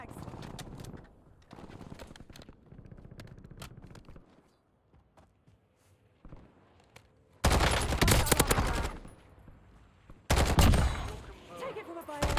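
A nailgun fires in Call of Duty Warzone on Rebirth Island: scattered light shots at first, then two loud, dense rapid bursts near the end, each lasting a couple of seconds.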